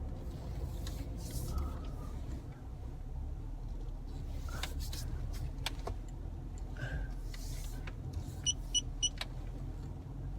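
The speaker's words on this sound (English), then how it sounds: "You can hear my sensors bleeping off then." A short run of electronic car parking sensor beeps rises over a low, steady car interior rumble in a busy car park, coming in quick succession near the end.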